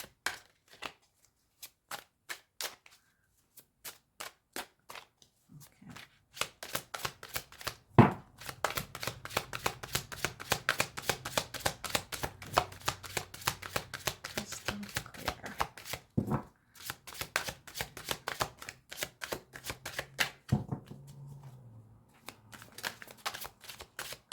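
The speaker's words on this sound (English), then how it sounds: "Shuffle one more time, but I'm getting the feeling that you only need that one card." Rapid crisp riffling of a tarot card deck, repeated in long bursts of fast flutters with brief pauses between shuffles, close and fairly loud.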